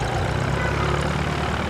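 Airbus A321 jet airliner engines roar steadily with a broad, dense rumble, loud and continuous throughout, with no talking over it.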